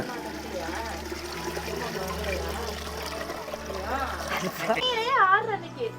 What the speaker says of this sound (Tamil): பானைக்கு ஒவ்வொரு பானைக்கு தண்ணி ஊற்றுறாங்க